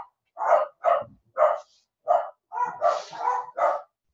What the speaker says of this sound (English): my dogs have decided to bark